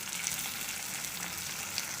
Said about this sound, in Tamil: இஞ்சி பூண்டையும் போட்டு இதில் சேர்த்து வதக்கிக்கலாம்